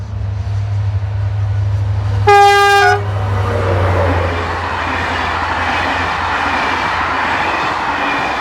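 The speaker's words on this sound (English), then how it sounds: "Approaching the camera on Sunday the 21st of September is 72190, hauling the 1320 Belfort to Paris." An SNCF CC 72100 diesel locomotive hauls a Belfort to Paris passenger train past, giving a loud two-tone horn blast under a deep engine drone, then the rising rumble and rattle of the passing coaches.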